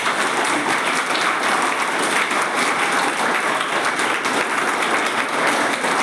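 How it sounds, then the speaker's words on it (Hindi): A large audience at a Mission IAS event in Ranchi, Jharkhand claps loudly and steadily, a dense even wash of applause filling the whole stretch. "मेरा भाषण आपको यदि पसंद आया तो जोर से तालियां बजाइए।"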